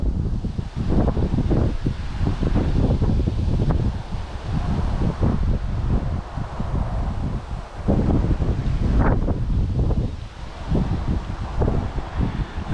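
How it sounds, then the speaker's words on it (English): Strong wind buffets the microphone in open countryside during a cycle tour, a steady, loud roar with gusty surges and no voices. "And it's a bit windy"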